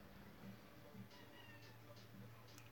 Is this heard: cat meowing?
yes